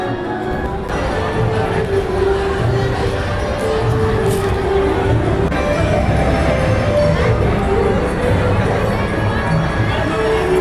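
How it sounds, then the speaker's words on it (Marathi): Large crowd at a wedding reception photo session in Niphad, Nashik, a dense continuous hubbub of many overlapping voices and children shouting, loud and unbroken throughout. "खूपच गर्दी आहे कधी नंबर लागायचा देऊ जाणे"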